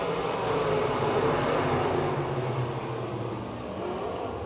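Race cars roar together at Pennsylvania Motor Speedway near Pittsburgh, a thick continuous engine rumble from a pack accelerating after the green flag, steady and fairly distant.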